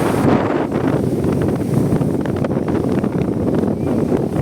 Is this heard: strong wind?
yes